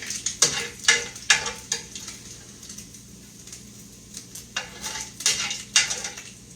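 Cooked bacon set back on a pan to drain grease: a series of sharp metallic clanks and scrapes, several in quick pairs, over a faint steady hum, with no talking.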